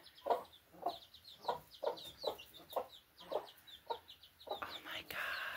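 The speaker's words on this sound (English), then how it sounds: "Lavon Hayes is showing her chicks how to go outside." A hen and her chicks going outside for the first time, with a steady series of soft rhythmic clucks about twice a second, close and fairly quiet, ending in a brief burst of louder noise.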